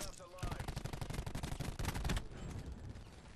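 Dense automatic gunfire in the video game Call of Duty Black Ops 4, loud rapid bursts from close range that ease into a lighter rattle of shots.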